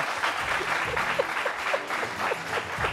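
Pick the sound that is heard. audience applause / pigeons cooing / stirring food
audience applause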